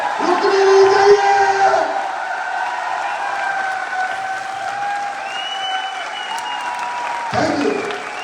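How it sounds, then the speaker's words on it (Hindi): Loud, sustained applause from a large audience fills a celebration hall in Jaipur, a dense steady wash of clapping with cheering voices mixed in, holding strong throughout before a brief surge near the end. "तो एक बार जोरदार तालियां अभी तक की सबसे जोरदार वाली तालियां दोस्तों।"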